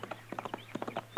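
Hoofbeats of a horse ridden hard in a radio drama Western: quick, evenly paced clops in clustered pairs, fairly close and clear against a quiet background, with no talking over them.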